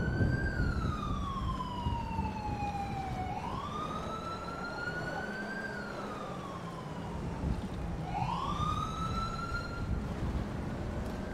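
Wailing police sirens of responding units in GTA 5 sweep slowly up and down, with multiple overlapping tones from several cars arriving, steady and moderately loud throughout.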